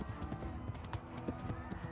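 A horse gallops in the video game Kingdom Come: Deliverance, its hooves drumming in a quick, steady rhythm over a low, even game backdrop, fairly quiet throughout.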